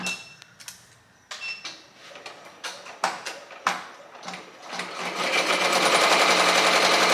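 An embroidery machine stitches with metallic thread, starting with irregular clicks and short bursts before settling into a fast, steady mechanical rattle, close and fairly loud.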